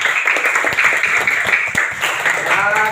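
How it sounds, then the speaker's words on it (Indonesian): Classmates in a classroom clap for a student: a steady, close round of applause lasting a few seconds, with voices mixed into the clapping. "mari kita tepuk tangan buat temanmu si Dion."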